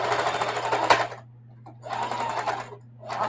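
A sewing machine stitches a small denim tote bag, running in three short back-and-forth bursts with brief pauses between them, close by beneath a low steady hum.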